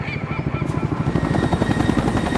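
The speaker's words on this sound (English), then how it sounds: "The helicopter. I remember." A helicopter in the video game XIII drones with a pulsing, chopping rotor rhythm that grows louder and fuller partway through, heard alone without speech.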